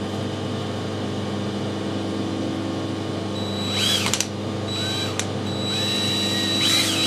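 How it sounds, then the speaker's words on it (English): A drill bores a hole by eye through a workpiece with a steady mechanical whir, close and moderately loud, broken by a few short higher-pitched bursts near the end. "Just drilling this by eye, because I can eyeball within and get things pretty close by eye."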